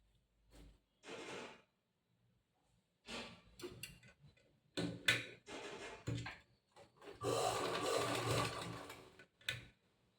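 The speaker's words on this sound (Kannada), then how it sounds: "ಇದು ಸ್ವಲ್ಪ ಫೋಲ್ಡ್ ಮಾಡಿ ಈಗ ಫಸ್ಟ್ ನಾವು ಒಂದು ಹೊಲಿಗೆ ಹಾಕಬೇಕು" Sewing machine stitching a folded sari edge for a zigzag fall, running in several short bursts and then one longer steady run, close and fairly quiet, with pauses between.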